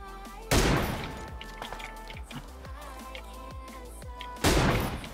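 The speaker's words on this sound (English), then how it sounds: "Keep firing that big ass gun." A big gun firing in the PUBG video game: two heavy, booming shots several seconds apart, each with a long rolling decay, with quieter clicks and handling noises between them.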